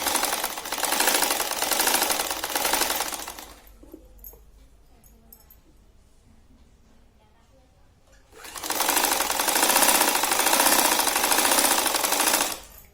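A sewing machine stitches the side piece of a size-36 katori blouse, running in two loud, steady bursts of rapid whirring with a quieter pause between them.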